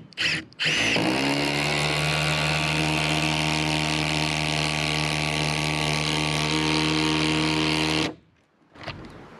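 Milwaukee impact driver run in a steady, continuous whir for about seven seconds, close and loud, with a high tonal motor whine that starts abruptly and cuts off sharply.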